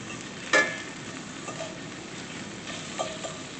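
Sausage frying in a pan for a breakfast of eggs Benedict, a soft steady sizzle with faint stirring and a brief louder clatter near the start, no talking.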